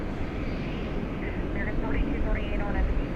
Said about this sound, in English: American Airlines, and Airbus A321 about to lift off